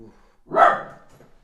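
A single dog bark, short and fairly loud, rising out of a quiet room with faint background murmur before and after.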